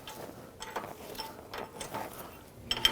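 Wrench working a bolt loose on the rear hub of a 2011-2017 Nissan Quest, giving faint, irregular mechanical clicks and ratcheting ticks over a quiet background, with a slightly sharper pair of clicks near the end.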